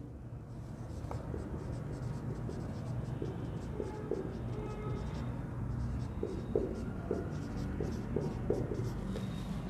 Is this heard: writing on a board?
yes